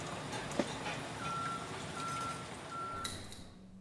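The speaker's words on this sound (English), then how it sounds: "heavy trucks going by on Allen Street" Steady rumble of a heavy truck rolling by on Allen Street, New York, with a series of evenly spaced high reversing beeps repeating over the engine noise.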